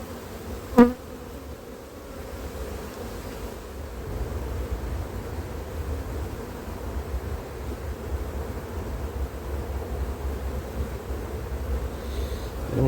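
Honeybees swarm around open frames lifted from a hive during an inspection, making a steady, even buzz at close range, with one sharp click near the start.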